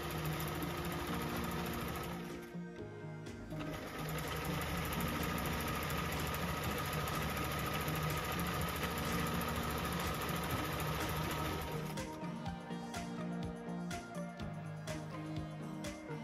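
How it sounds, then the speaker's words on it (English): A sewing machine runs continuously, sewing long gathering stitches at its largest stitch length along many meters of fabric for a ruffle circle skirt, with a steady mechanical whir that pauses briefly near the start and resumes. "Then it's machined on the largest stitch length of foot down for many, many meters."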